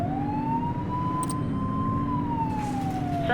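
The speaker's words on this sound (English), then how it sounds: "Completely forgot about my sirens." A police car siren in the video game The Precinct wails in a slow rising and falling tone over a steady engine rumble, loud and continuous, with no voices.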